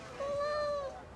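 A cat gives a single clear, drawn-out meow, close by and alone with no talk over it.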